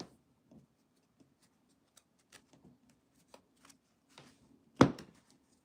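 Quiet scattered ticks and riffles of cards being shuffled, building to one louder burst of card flicking near the end, with no talking.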